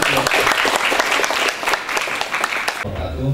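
An audience applauds loudly and steadily for a professor, a favourite lecturer at Universitas Pendidikan Indonesia, at an Indonesian event; the clapping fills the room for about three seconds, then a voice begins speaking as it stops.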